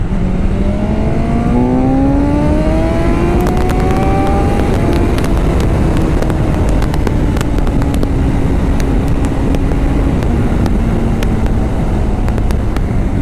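A BMW S 1000 XR motorcycle with a quick shifter accelerates hard, its engine pitch climbing sharply through quick gear changes before settling into a loud sustained drone under heavy wind rush.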